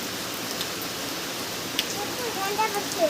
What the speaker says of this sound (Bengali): আরও অনেক জোরে বৃষ্টি শুরু হয়ে গেল এখন